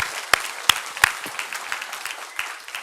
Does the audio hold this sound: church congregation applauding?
yes